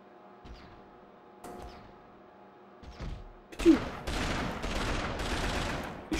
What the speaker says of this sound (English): He's shooting the wall.